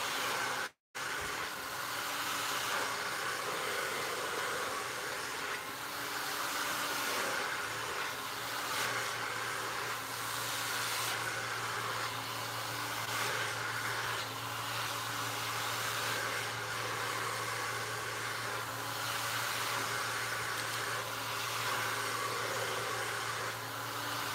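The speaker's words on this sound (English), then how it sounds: "most of the work done with the silk press is done with your blow dryer and your brush" A blow dryer runs continuously during a silk press hair styling, a steady loud whooshing roar with a brief cutout near the start and a low hum joining partway through, with no talking.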